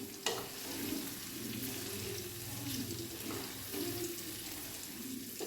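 Pickle frying in sesame oil as it is stirred in the pan, a steady close sizzle with soft scraping stirs throughout, no talk.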